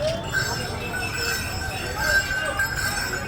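Interior train noise just after departing Rampurhat station, a steady rumble with squealing wheels and faint clinks, while muffled voices talk in the background.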